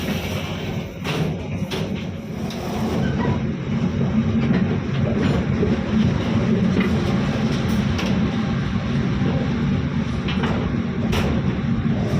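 The Airlangga passenger train on its Surabaya–Jakarta run rolls along the rails with a steady low rumble, scattered clicks and thumps over the joints, heard up close throughout.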